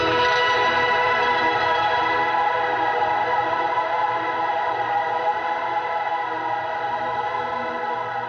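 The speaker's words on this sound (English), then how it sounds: "And all you have left are just the reverbs. Yay, the decay." Sustained reverb tails from an EarthQuaker Devices Swiss Things pedalboard loop ring out as a dense, even wash of tone, slowly fading over several seconds with no new attacks.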